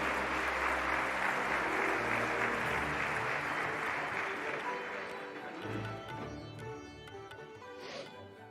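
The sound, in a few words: audience applause for Congressman Cartwright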